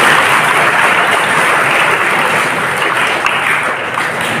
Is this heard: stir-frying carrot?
no